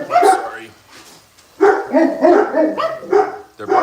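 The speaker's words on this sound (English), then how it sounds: "They're barking at the snow." Several dogs barking at snow in a home kitchen, in loud bursts with a pause before a second run of repeated barks.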